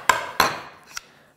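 Homemade wooden hammer knocked against a hard surface: three sharp, hollow wooden clacks, the first two close together and loud, the third softer, each ringing briefly.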